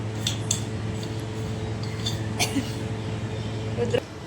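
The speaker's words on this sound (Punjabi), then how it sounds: "ਹੁਣ ਮੈਂ ਧੋਣ ਲੱਗੀ ਆ ਭਾਂਡੇ ਭੁੰਡੇ ਚਾਹ ਵਾਲੇ" Tea dishes and utensils are washed in a home kitchen: light clinks and clatters of cutlery and pots ring out now and then over a steady background hum, with someone talking quietly throughout.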